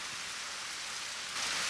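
Rain from the anime Idaten Jump pours down as a dense, even hiss that swells slightly louder toward the end, with no voices.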